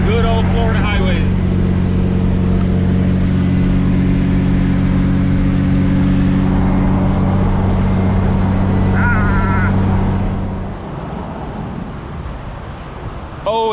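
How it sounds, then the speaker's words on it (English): A Supra cruises along a Florida highway with a steady engine drone and road rumble, a voice speaking briefly over it near the start and again later. "For now, just driving down the highway"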